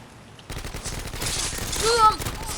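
Rapid automatic gunfire rattles in a Call of Duty: Modern Warfare 2 match, a dense continuous burst that builds in loudness, with a couple of short tonal game effects near the end.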